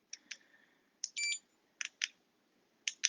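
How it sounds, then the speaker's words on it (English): An interval timer sounds a series of short, sharp electronic beeps in spaced pairs and single tones, one held slightly longer, during a core and glute workout session. "I'm going to set a interval timer,"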